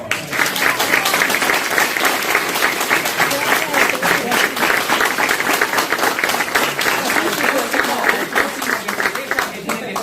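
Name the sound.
applause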